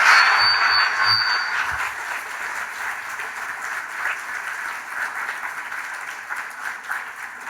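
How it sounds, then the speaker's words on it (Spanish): Applause from a church congregation, a steady wash of clapping that is loudest at first and then settles to a sustained, slightly softer level without any talk. "Denle un aplauso a Jesús."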